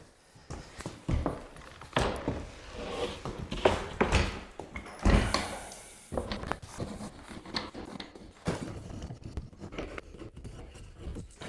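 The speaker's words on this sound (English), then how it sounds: "now I'm gonna stand the door back up." An interior door is lifted and stood back upright, giving a run of knocks, thuds, scrapes and shuffling footsteps close by, irregular and busy throughout.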